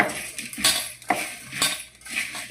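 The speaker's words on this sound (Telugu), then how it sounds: "ఉప్పు పసుపు వేసి ఇలా కలిపేసి" Sliced bitter gourd is mixed with salt and turmeric in a metal bowl, giving a series of rhythmic clinks and scrapes, close and moderately loud.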